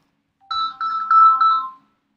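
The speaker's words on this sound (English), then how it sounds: "Call from Richard Gere." A phone ringtone for an incoming call sounds as a short electronic melody of four bright tones, clear and alone with no talk.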